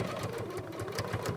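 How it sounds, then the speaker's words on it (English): A home sewing machine stitches a straight seam along a gym bag, its rapid needle chatter pulsing evenly in a short, close, fairly quiet burst with no talking. "Now I'm sewing a straight line all the way down to the end."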